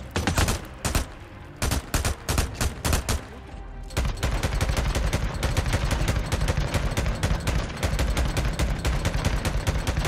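Heavy gunfire in the zombie-survival video game Days Gone, with bursts of shots at first, then a dense, loud, continuous barrage of rapid fire that holds to the end.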